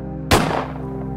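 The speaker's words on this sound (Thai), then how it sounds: "เสียงปืนดังขึ้นมันทำลายความเงียบอย่างกึกก้องจนผมอดสะดุ้งไม่ได้" A single gunshot sound effect cracks out sharply and loudly within a Thai ghost story set in a forest, followed by a short reverberant tail over a low, sustained musical drone.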